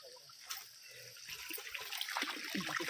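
Mangoes are washed under running water, giving a steady trickling, splashing flow that grows slightly louder over a few seconds, with no talking.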